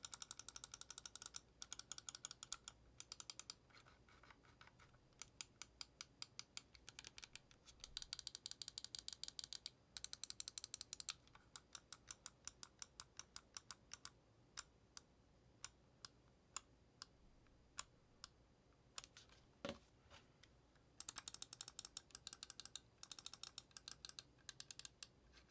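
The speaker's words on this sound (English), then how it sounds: "Now as far as button placement and button clicks, very crispy and clicky to the point here." Button clicks from a Glorious Model D wireless gaming mouse, crisp and clicky, come in rapid bursts and scattered single taps. They are close but quiet, with no talking.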